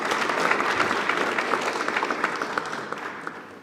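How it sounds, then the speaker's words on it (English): Applause from an audience at a national plan launch in Namibia attended by the President, a steady wash of clapping that slowly tapers off, moderately loud with no speech over it. "A hand of applause again."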